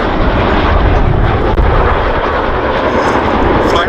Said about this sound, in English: the Chinook is going to break away shortly to perform a 60-degree offset wingover away from crowd centre